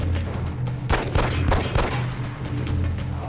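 Sharp gunfire in XCOM: Enemy Unknown, the pistol shot meant here: several punchy reports near 0.9, 1.2, 1.5 and 1.75 seconds over a steady low game hum, loud and close with no talk.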